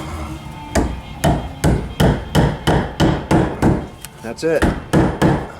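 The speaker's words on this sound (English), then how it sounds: "Preset nail, tap it on." A hammer taps nails into 1/2 inch PEX talon clips holding a kitchen sink water line, about a dozen sharp, evenly spaced knocks close by, with a brief word spoken partway through.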